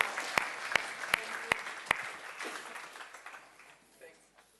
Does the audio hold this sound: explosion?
no